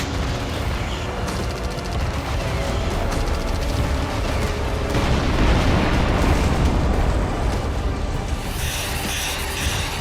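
Explosions from Russian attacks in Ukraine form a continuous, loud, rumbling roar of blasts and debris that swells around the middle and ends in a thinner crackle.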